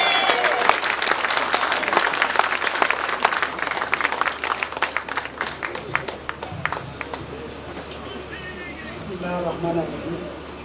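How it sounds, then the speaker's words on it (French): A large audience at an airport technical building inauguration applauds the SECNA director general, dense clapping filling the room loudly for several seconds before tapering off as a voice begins speaking near the end. "Je vous demande de l'applaudir très très fort."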